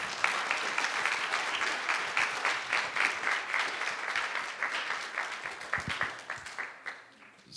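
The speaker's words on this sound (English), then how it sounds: "Let's give Thomas and Jason another round of applause." An audience at a public information session for a park conservancy applauds two presenters, steady mid-level clapping that gradually thins out toward the end.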